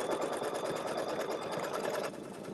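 A sewing machine stitches through soft chenille fabric in a fast, even mechanical chatter, close and continuous, dropping a little in loudness near the end but running throughout.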